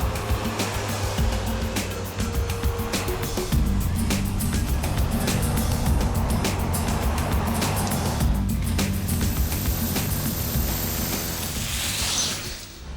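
Yellow Land Rover Freelanders in a 37-vehicle convoy climbing toward the Valle Nevado ski resort, a steady engine drone mixed with mechanical rattling and whine, continuous and fairly close, easing off at the very end.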